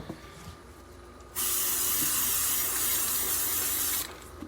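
Aerosol mold release sprayed onto blue pen blank casting molds: a steady, loud hiss lasting about three seconds, starting and stopping abruptly, close to the microphone, with quiet room tone before and after.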